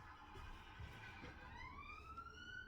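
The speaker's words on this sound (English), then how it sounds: "Excuse the sirens if you hear the sirens." Sirens wail outside in the distance, faint and rising in pitch through the last part, heard indoors beneath a low room murmur.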